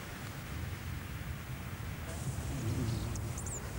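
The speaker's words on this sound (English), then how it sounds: "Right into the teeth of the wind." Strong wind gusts over open countryside, a steady broadband rush that swells slightly toward the end, with faint scattered chirps in the background.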